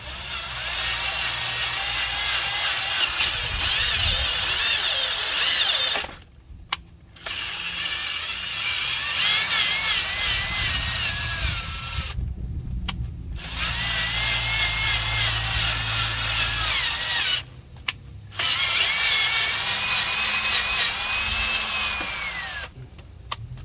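A power drill tapping threads into a hole in metal for a steering bump stop, with loud whirring runs broken by three short silent pauses where the tool stops, each run carrying rising and falling pitch.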